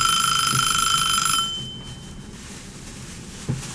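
A kitchen timer beeps in a fast, steady, piercing pattern for about a second and a half, then cuts off, leaving quiet room noise and a soft knock near the end.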